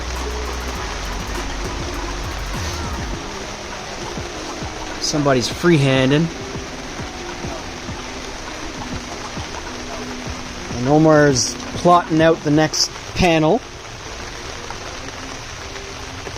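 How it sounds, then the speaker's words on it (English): Rain falls steadily on a tarp shelter while people work on wrapping a Beetle, a constant soft patter and hiss under short bursts of nearby talking. "It decided to freaking rain."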